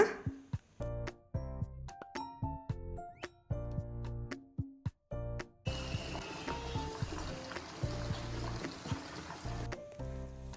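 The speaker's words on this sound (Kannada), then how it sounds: "ಸ್ವಲ್ಪ ನೀರು ಸೇರಿಸ್ಕೊಳ್ಳೋಣ" Water is poured into a pan of frying chicken chops in spice paste. Background music plays at first, then a broad, steady splash and sizzle takes over for the last few seconds.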